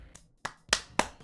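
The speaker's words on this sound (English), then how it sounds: "Can you hear how loud I'm clapping?" Hands clapping close up, four separate claps spaced a moment apart, the first faint and the next three loud and sharp, alone without talk.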